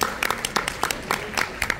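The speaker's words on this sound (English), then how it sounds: "Round of applause." A small audience at a talk gives a brief round of applause, heard as scattered, uneven claps with gaps between them rather than a full ovation.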